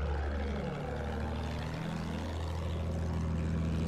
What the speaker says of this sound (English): I have an airplane